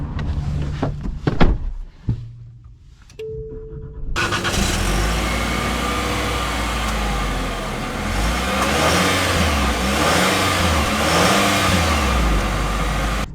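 A 2025 Nissan Kicks S starts with a door clunk and a brief mechanical whir, then its engine drones steadily and rises as the car drives off and accelerates, heard from inside the cabin.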